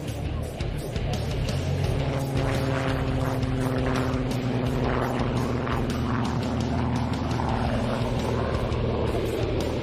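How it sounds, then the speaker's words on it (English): Supermarine Spitfire Mark 14 with a Rolls-Royce Griffon engine passes overhead at an air show, a sustained droning engine roar with a continuous wash of noise over the full length. "It was also the power plant for the Supermarine Spitfire, this particular one, a Mark 14 powered by a Rolls-Royce Griffin engine."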